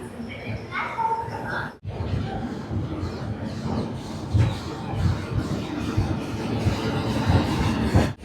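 Puri Superfast Express rolls along the rails with a steady rumble and rhythmic wheel clatter heard from inside the coach, brief dropout early, continuous and fairly loud.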